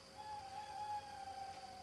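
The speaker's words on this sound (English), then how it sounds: "That's my owl on my clock, and it does sound like woe, doesn't it?" An owl-shaped clock chimes with a sustained hooting tone, a steady hoot-like call holding for about two seconds at moderate level with no voices.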